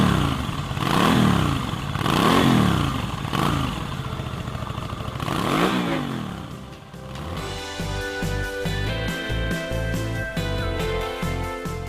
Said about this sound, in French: La mise en route au démarreur permet d'entendre le grondement cossu du V2 Kiway.